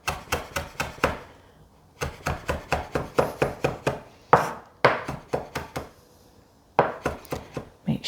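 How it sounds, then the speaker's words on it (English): A knife chopping chili on a cutting board for coriander and tomato salsa: rapid bursts of sharp, close knocks in quick rhythmic runs separated by short pauses. "And then chop it that way."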